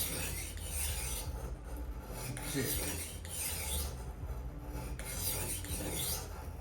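A knife is drawn repeatedly across a portable knockoff sharpener, producing steady, close rasping strokes that repeat at a regular rhythm with no speech.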